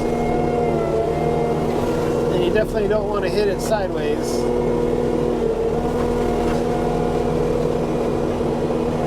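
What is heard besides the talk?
Kubota SVL 75-3 compact track loader engine running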